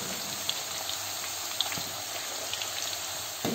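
Banana chips sizzle and crackle in hot oil as they are stirred, a steady hiss broken by small pops and a few sharper clicks of the utensil.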